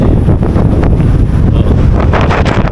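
Loud wind buffeting the microphone, rumbling gusts that swell and ease without pause, with no voices.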